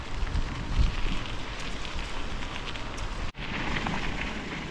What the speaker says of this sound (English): And just getting a little bit of rain here.